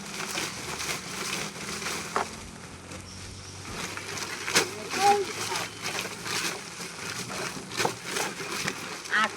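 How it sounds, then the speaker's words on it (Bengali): About eight kilograms of mustard oil cake is being mixed and crushed wet by hand to make fish feed. Squelching, crunching and small splashes repeat irregularly at close range, with someone talking in between. "এবার আমরা পরিমাণ মতো আমরা সরিষার খোল মিশিয়ে নেব"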